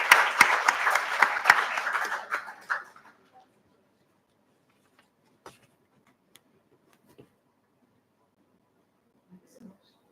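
Close, dense clapping for a speaker at a professional event fades out within about three seconds, leaving near silence with a few scattered taps and faint rustles.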